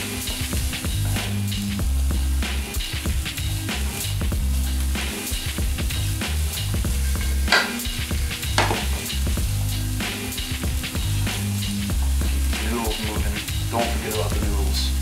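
Ingredients for beef stroganoff brown and sear in a hot pan with a continuous crackling sizzle, broken by scattered scrapes and clinks as they are stirred around. No talk is heard.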